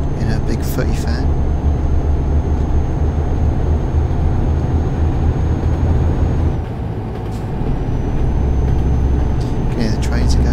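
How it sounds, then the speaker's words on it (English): Passing trains in the video game Euro Truck Simulator 2, heard as a steady loud low rumble and rolling noise with a brief dip midway, under someone talking. "You can hear the trains again."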